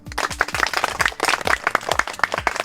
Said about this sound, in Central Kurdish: هەر بژی شوێنێکیان یەک چەپڵەی بۆ لێیان